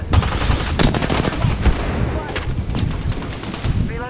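Rapid bursts of gunfire in a video game shootout, loud repeated cracks with some voices talking over parts of the exchange.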